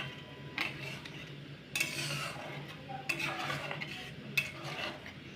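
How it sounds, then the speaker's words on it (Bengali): Sugar being stirred into mango kheer in a pot, with several distinct scraping and clinking strokes of a spoon against the vessel spaced a second or so apart, fairly close and soft, with no talk. "এইভাবে ভালো করে নেড়ে চেড়ে চিনিটাকে আমি ভালো করে এর সাথে মিশিয়ে নেব।"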